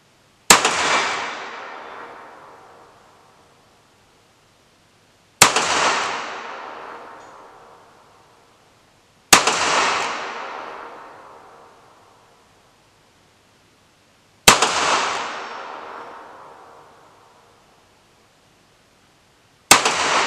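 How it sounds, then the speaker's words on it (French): Five loud gunshots from a .38 handgun at an outdoor 25 m shooting range, each a sharp crack with a long decaying echo, spaced several seconds apart, with no talk. "nous allons maintenant essayer l'arme au stand de tir à 25 mètres"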